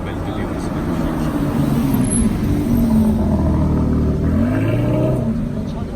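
A car passes close by with a steady, loud engine rumble that rises and falls slightly as it drives past, with no talking over it.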